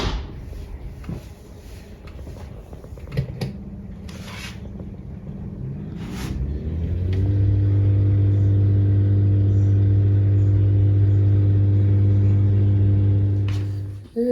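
A dishwasher is set to its intensive program, with a few clicks and a door thud, then the machine starts into a loud, steady low hum and whir that holds until it cuts off at the end.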